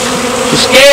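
Bees buzzing around a swarm site, a close, loud steady drone with a rising whine near the end.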